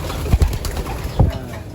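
Pigeons in a loft aviary, among them a grizzle, give two low, close coos about a second apart, with some soft rustling around them.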